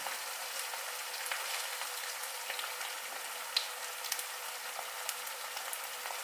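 Eggs fry in a stainless steel pan on residual heat after the element is switched off, giving a soft, steady sizzle dotted with faint crackles and pops, quiet and without voices.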